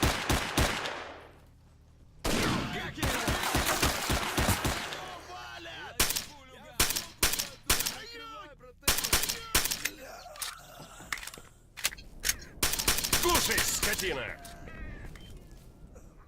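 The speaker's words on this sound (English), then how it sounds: "silenced weapon, you can hear it" Suppressed gunfire from silenced weapons in the shooter game S.T.A.L.K.E.R.: Shadow of Chernobyl, sharp clustered bursts and single cracks recurring across the stretch, loud and mid-distance, with a voice talking in places between them.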